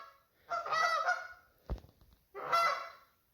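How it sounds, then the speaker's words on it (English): Geese honk in two loud bursts of harsh, overlapping calls, separated by a short thump, fairly close by. "Those geese are funny."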